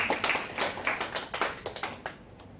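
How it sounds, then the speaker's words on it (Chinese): An audience claps in a hall, a short burst of scattered applause from a modest crowd that tapers off after about two seconds. "给这个朋友掌声鼓励一下"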